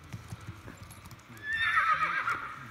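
A horse in the Star Stable online game clip-clops with light rhythmic hoofbeats, then lets out a bright, drawn-out whinny in the second half, moderately loud and with no talk.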